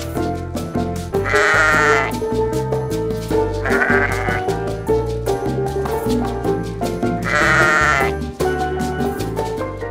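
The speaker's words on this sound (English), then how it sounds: "It looks like Marley the sheep has the first one" Three loud sheep bleats ring out over steady background music, spaced a few seconds apart.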